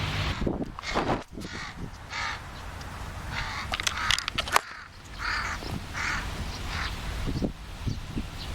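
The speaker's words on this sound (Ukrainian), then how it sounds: "ця ворона сіла на сухе дерево, на верхушку" A crow perched at the top of a dry tree caws several times in rough, scratchy calls over outdoor rustle and handling noise, fairly close and clear.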